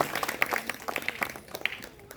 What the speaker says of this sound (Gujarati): આપણે જોરદાર તાળીઓથી વધાવવી જોઈએ.